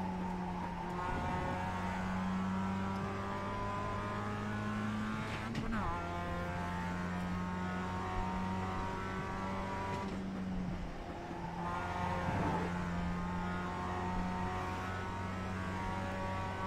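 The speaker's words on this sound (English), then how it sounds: "This car sounds amazing." A racing car engine in an iRacing or Assetto Corsa video game drones steadily with shifting harmonic pitch, dipping twice as if changing gears, continuous and loud throughout.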